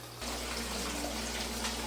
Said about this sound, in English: You're putting water into the raft bed.